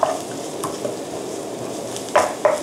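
Kimchi pasta ingredients stir-fried in a pan, a steady close sizzle broken by a few sharp spatula scrapes and knocks near the end, no voices.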